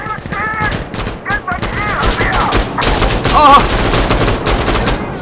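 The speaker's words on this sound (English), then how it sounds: "He's shooting through a wall." Dense automatic gunfire in the video game Insurgency: Sandstorm, loud rattling volleys and fusillades that build toward the end, with a player shouting and voices over the shooting.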